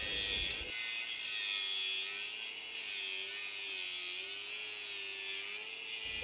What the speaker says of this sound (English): Maybe I'll start it off with the angle grinder.